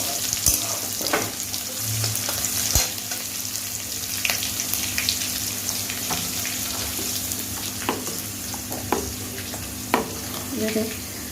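Garlic frying in a pan for a kolath dal, a steady close sizzle with scattered scraping clicks and taps of stirring throughout.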